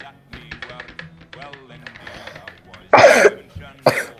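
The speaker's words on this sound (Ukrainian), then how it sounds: "Не кашляй." Two sharp, close coughs, the second shorter, burst out after a stretch of quiet chatter and clicks from players hiding in the Steal Cookies game.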